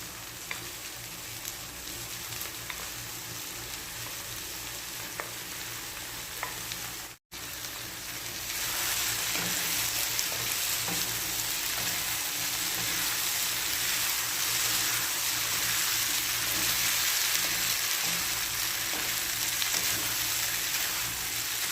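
Chopped goat bopis hits a hot pan with oil. A hissing sizzle gives way to a brief silence, then a louder, denser frying roar that holds steady and close, with no voices.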